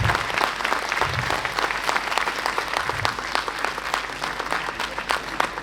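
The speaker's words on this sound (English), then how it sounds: "I'll request again for a big round of applause for Honorable Chief Justice sir." Applause for a chief justice at a university event, a brisk, close crowd of clapping with distinct individual claps sounding throughout, steady and fairly loud without any voices.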